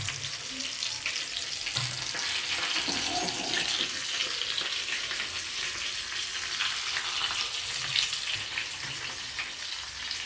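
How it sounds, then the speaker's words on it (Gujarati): Mustard seeds crackle and splutter in hot oil while tempering a vegetable dish, a steady dense frying fizz with scattered pops running throughout and no talk. "રાઈ ફૂટી જાય, રાઈ ફૂટે જ છે"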